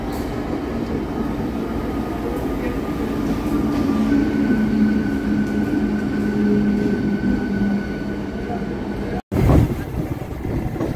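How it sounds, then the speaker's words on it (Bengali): A local train rolls into Santragachi station near Kolkata with a loud, continuous rumble of wheels and carriages, a steady tonal whine, and a sudden clunk near the end. "আমাদের লোকাল ট্রেনও ঢুকছে"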